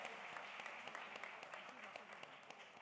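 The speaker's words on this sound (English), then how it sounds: "Give them a big round of applause, QSAT there." A quiz audience fills the hall with steady, dense applause for the winning team at the Rajagiri NBQ quiz. The clapping is even and continuous from start to end, and a presenter's voice is faintly present underneath.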